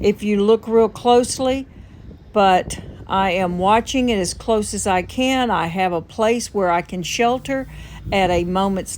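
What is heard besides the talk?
None of the usual background noises is heard.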